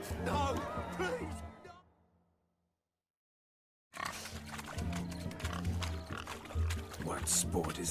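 Pigs oinking in The Witcher 3: Hearts of Stone, grunting and squealing amid crowd noise and talking voices, with a brief silent gap before the din resumes.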